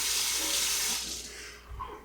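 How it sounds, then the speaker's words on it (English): A spoon is rinsed under a running kitchen tap while coffee is made, a steady bright rush of water that thins out toward the end, with a brief clink near the close. "Then you rinse the spoon."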